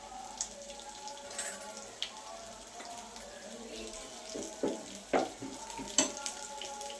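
Onion and mustard seeds frying in oil for chhole make a soft, steady sizzle close by. Sharp pops and crackles break through now and then, along with light scraping of stirring.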